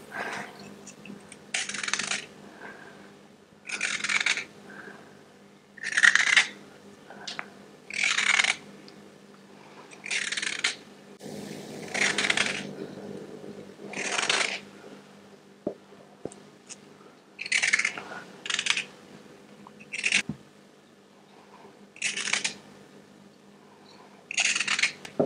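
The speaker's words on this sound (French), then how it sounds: "Donc pour commencer il faut éplucher les carottes." Carrots being peeled for homemade baby food, with repeated short scraping strokes in bursts separated by pauses, close and moderately loud, no talk.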